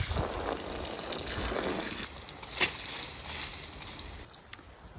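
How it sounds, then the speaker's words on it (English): Water from a garden hose gushes and splashes onto leeks grown for a competitive vegetable show, a moderately quiet, continuous flow with a few sharper splashes. "So let's get this hose plugged in and get these leeks watered"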